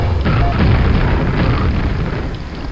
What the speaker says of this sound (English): We just straight up just took a grenade straight to the face and died instantly.